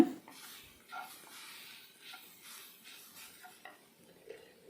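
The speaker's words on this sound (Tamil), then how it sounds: "தேங்காயோட ஈரப்பதம் போகணும் அந்த அளவுக்கு நல்லா வதக்குங்க" Grated coconut sautéed in a pan, heard as faint, soft, intermittent scraping stirs with a light sizzle underneath.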